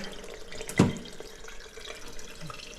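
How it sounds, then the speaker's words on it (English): Water is poured into the tank of an iRobot Braava M6 mopping robot, giving one brief splash followed by a faint, steady trickle. "So we are going to pour it with water"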